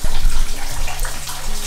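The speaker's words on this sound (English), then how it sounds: "This is our current water line, emergency water line. Do we remember why they're emergency lines? Because we have a lovely leak." Water leaking from a house's emergency water line, a loud, steady gushing rush heard up close, continuous throughout with no talking.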